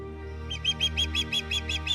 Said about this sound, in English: In late autumn, the pristine mangroves bordering the lagoon welcome a multitude of nesting birds.